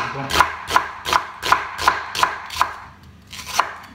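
A knife chops onions lengthwise on a cutting board in about eight sharp, evenly spaced strokes, with a short pause before the last one. The chopping is close and clear, with no talking over it.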